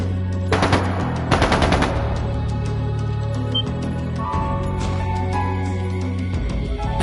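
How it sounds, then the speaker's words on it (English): Bursts of rapid automatic gunfire crackle in quick rattling volleys over a low droning background, with sporadic shots continuing afterward, in the game The Legend of Heroes: Trails of Cold Steel II. "That didn't sound good. That sounded like gunfire."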